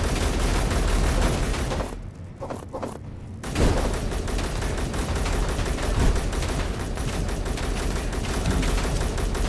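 Gunfire in the Space Engineers game rattles in dense, loud bursts of rapid shots, pausing briefly before resuming as continuous fusillade.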